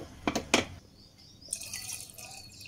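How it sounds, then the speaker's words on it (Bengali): Tea liquor poured into a chickpea curry being readied for the pressure cooker: two brief splashy bursts, then a soft, steady trickle of liquid, close and fairly quiet, with no one talking. "চায়ের লিকার দেওয়াটা সম্পূর্ণ অপশনাল, আপনারা দিতে না চাইলে নাও দিতে পারেন। আমি সুন্দর কালারের জন্য দিয়ে দিলাম।"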